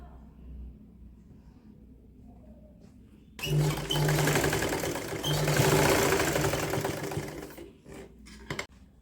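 A sewing machine stitching two layers of woollen socks, a sudden start into a loud steady whirring run of about four seconds, then stopping with a few clicks.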